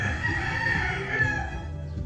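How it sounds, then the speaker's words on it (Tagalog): A rooster crows once in a long, drawn-out call, close and clear, with no talking. "shoutout din sa manok ng kapitbahay namin sumasabay sa voice over ko"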